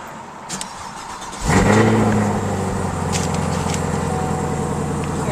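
A 2020 Chevrolet Camaro engine cranks and fires up nearby, flaring briefly in a loud rev before settling into a steady, rumbling idle.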